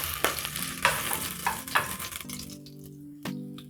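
Meat searing in a pan for osso buco, a close sizzle with repeated stirring and scraping bursts that fade to a quieter fry with a low hum.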